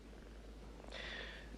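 A cat purring softly and steadily, a faint continuous low rumble that runs the whole moment, alone and without speech, over a quiet background hum.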